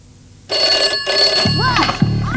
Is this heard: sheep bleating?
no